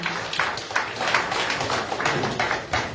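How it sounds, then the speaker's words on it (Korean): Applause from an audience at a lecture in a convention centre hall, welcoming the speaker: steady, dense clapping from many hands, moderately close and continuous through the whole stretch, with no talking over it. "큰 박수로 맞아주시기 바랍니다"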